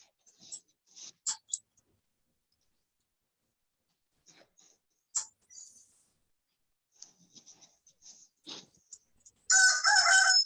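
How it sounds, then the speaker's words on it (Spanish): Recorded rooster crowing played back, a few brief faint bursts spread across a quiet stretch, then a loud full crow at the very end. "Escuchó el gallo."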